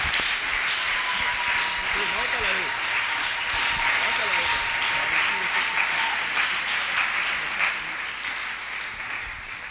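A church congregation at a French-language worship service applauds and cheers in steady, dense clapping throughout, with voices calling out over it.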